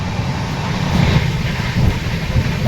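Inside an air-conditioned passenger coach on a morning train journey from Gujarat toward Banaras, a loud steady low rumble with a continuous broadband roar and faint rhythmic thumps of the wheels.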